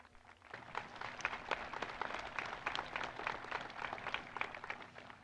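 Sustained applause from a commencement ceremony audience at a high school graduation, a dense steady crowd of clapping hands filling the space for several seconds without pause.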